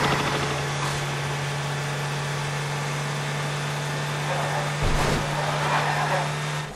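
A car driving in the game Transformers: Fall of Cybertron gives a steady engine hum with a constant low drone throughout, rising briefly near the end, while game effects play over it.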